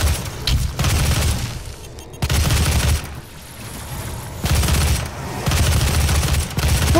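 Rapid bursts of gunfire from the video game Doom, loud and dense, in repeated volleys separated by brief lulls with booming low-end impacts.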